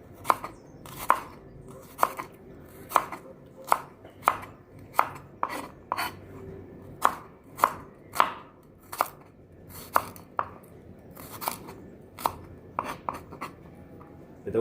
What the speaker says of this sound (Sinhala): ඊට පස්සේ අපි රතු ලුණු මෙන්න මේ විදිහට කපනවා පොඩියට.